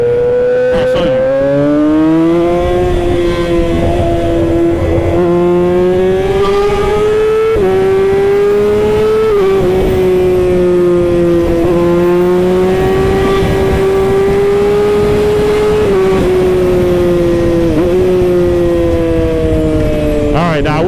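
A Yamaha R6 sport motorcycle ridden hard, its engine screaming high and loud with rising and falling revs through gear changes, nearly continuous for about twenty seconds, close up and alone.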